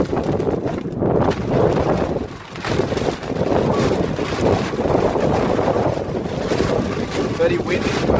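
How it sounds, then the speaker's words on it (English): Strong wind buffets the microphone outdoors during a car rear bumper job, a steady loud rushing roar with gusty swells that briefly dips midway. "Very windy, right?"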